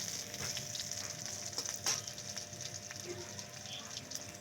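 Panch phoron spices sizzle in hot oil while a pui shak curry is being cooked, a faint, steady crackling fry with a few sharper pops.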